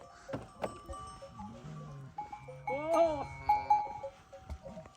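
A sheep trailing its shepherd bleats once in a wavering cry amid scattered knocks and rustles outdoors, while someone talks nearby.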